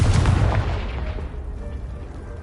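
A Confringo spell blast in Hogwarts Legacy bursts loudly at the start, a heavy booming explosion that rolls off into a fading rumble and debris-like crackle over about two seconds.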